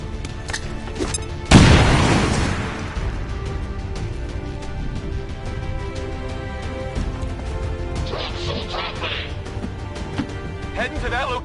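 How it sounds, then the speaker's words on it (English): A grenade goes off in XCOM 2: War of the Chosen with one sudden heavy boom that rolls away over about a second, set against a low game soundscape with faint clicks and a short metallic shimmer afterward. "Grenade out."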